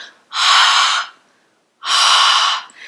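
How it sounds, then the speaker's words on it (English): Two long, breathy exhalations through the mouth during ujjayi pranayama, each about three-quarters of a second, close and fairly loud with a short silent pause between them and no talking. "So we're gonna do 3 rounds of breath, just like that, breathing out through the mouth."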